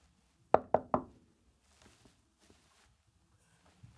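Three sharp knocks on a door come close together, loud and near, followed by a few faint shuffling sounds like footsteps in a quiet room.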